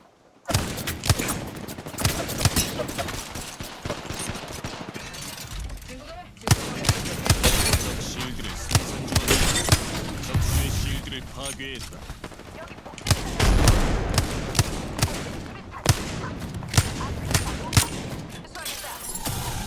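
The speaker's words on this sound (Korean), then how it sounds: "사격한다. 적들이 날 쏘고 있어." Gunfire in the video game Apex Legends, with repeated rapid bursts of shots in several loud clusters and short gaps between them, mixed with dense game effects.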